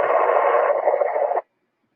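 On a 146.415 FM simplex net in Mt. Juliet, Tennessee, a burst of radio hash breaks the squelch, a loud, rough hiss lasting about a second and a half before cutting off abruptly into silence.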